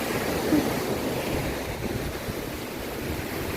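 Ocean surf at Phayun beach in Rayong, Thailand, a continuous broadband wash of waves breaking nearby, mixed with wind buffeting the microphone, with no voices.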